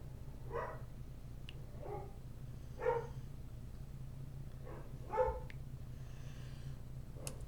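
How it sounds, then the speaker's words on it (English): A dog barks indoors, several separate muffled barks spread across the stretch at moderate distance, with a steady low hum underneath and no talking. "Sorry about the dog barking."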